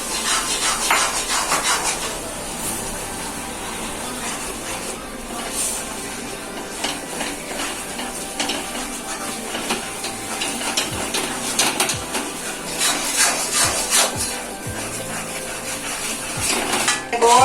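Wheat flour is stirred in hot ghee in a pan for halwa, with repeated scraping and clinking of a metal spoon against the pot over a faint sizzle. The strokes are close and irregular, and no one talks.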